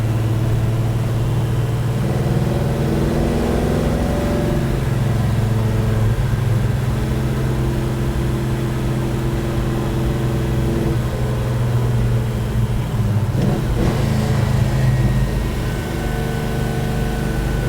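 A 1966 Beaumont with a 400 block, 283 crank, five-speed gearbox and Quick Fuel 680 carburettor, heard from inside as a continuous loud engine drone that rises and shifts in pitch while accelerating on a drive.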